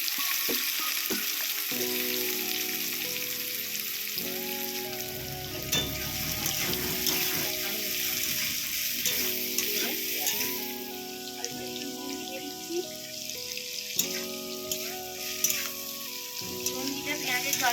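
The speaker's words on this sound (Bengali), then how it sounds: "এবার আমি পেঁয়াজ দিয়ে দিচ্ছি।" Sliced onions hitting hot oil already holding lightly fried cloves and cardamom, a steady bright sizzle with scraping stirs and utensil clatter running throughout.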